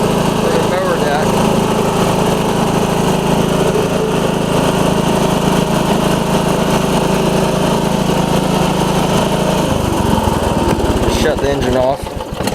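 A Husqvarna lawn tractor with a repowered engine runs steadily and loudly close by, a continuous droning hum that changes pitch near the end as the engine winds down, with someone talking over it.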